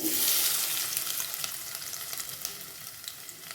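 Onions frying with fennel seeds in a pan for an egg and paneer gravy: a loud, steady sizzle close up, strongest at first and then settling into a dense crackle with a few light stirring taps.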